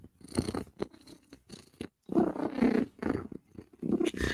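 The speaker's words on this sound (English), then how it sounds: "If cat is purring, cat is a happy, happy girl." A cat purrs in a loud, close, rhythmic rumble, its breathing pulses coming in uneven bursts with short gaps between them.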